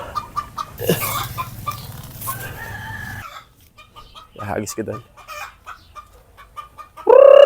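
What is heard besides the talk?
chickens clucking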